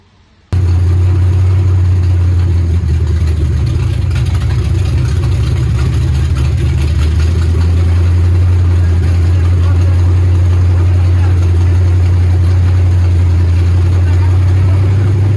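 A big-block Chevy V8 in a 1971 Chevrolet Nova starts up and settles into a loud, deep, steady rumble that runs unbroken throughout.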